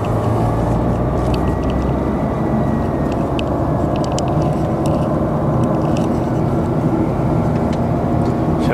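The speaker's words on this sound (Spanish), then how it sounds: "Se oye un poco el ruido del motor, pero bueno, ya lo he querido dejar así." Car engine and road noise while driving on the A-14 motorway near Lleida, a steady, loud, continuous droning rumble with no talking.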